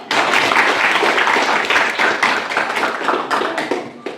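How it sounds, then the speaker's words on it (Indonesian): A classroom of students bursts into loud, dense applause, many hands clapping at once in a steady, crowded patter that runs throughout before easing slightly near the end. "Berikan aplaus dulu."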